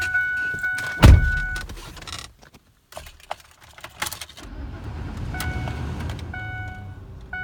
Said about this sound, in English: Listen to what it sounds like to start up.